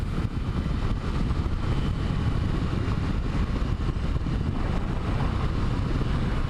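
A Yamaha FZ6 motorcycle, once pulled from a fire, rides along with a smooth, steady engine drone mixed with heavy wind rush, loud and constant from start to finish.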